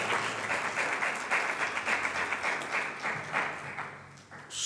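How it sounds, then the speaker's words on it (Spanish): A church congregation applauds in praise during a Spanish-language worship service, producing steady, dense clapping that holds for several seconds before easing slightly at the end. "Dele una ofrenda de palmas al Señor por su amor y por su misericordia."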